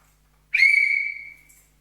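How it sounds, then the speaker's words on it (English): A single sharp whistle blast rings out alone in quiet surroundings, held about a second with a strong clear tone and then fading away. "every 30 seconds or so, I'm going to blow the whistle"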